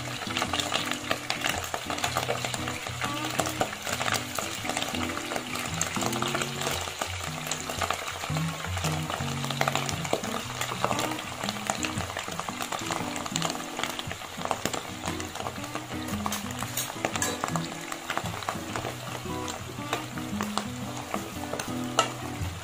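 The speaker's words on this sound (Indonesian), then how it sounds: "Berikutnya panaskan minyak di dalam wajan. Jika sudah panas, masukkan daging slice yang telah dimarinasi." Marinated sliced beef for dendeng balado fries in hot oil in a wok, giving a steady, dense sizzle throughout with occasional clinks and scrapes of stirring and no talking.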